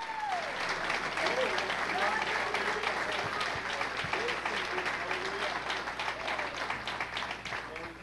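A church congregation applauds steadily throughout, a dense, sustained wash of clapping with a few voices calling out beneath it.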